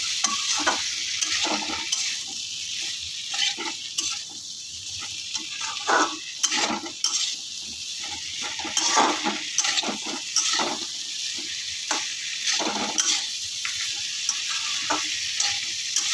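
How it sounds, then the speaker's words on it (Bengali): Beetroot, carrot, cauliflower and other vegetables sizzle in a frying pan with ginger paste, stirred by a large spoon in a steady run of scraping strokes over continuous close frying hiss, with no talk. "এবার আমি সবগুলো ভালো করে নাড়িয়ে নিচ্ছি"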